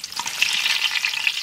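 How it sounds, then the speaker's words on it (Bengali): Dried red chillies fry in hot mustard oil with bay leaf in a village kitchen, a loud, close, continuous sizzle and crackle with a stirring sound and no talk. "লঙ্কা একদম সুন্দর ভাজা হয়ে গেছে"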